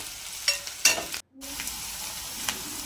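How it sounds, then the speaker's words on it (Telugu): Onion pieces fry in hot oil, making a soft crackling sizzle with a few sharper pops and stirring scrapes and a momentary break in the sound. "ఆయిల్ హీట్ ఎక్కాక కట్ చేసి పెట్టుకున్న ఉల్లిగడ్డ ముక్కలను వేసేసుకొని బాగా ఫ్రై చేసుకుంటున్నాను"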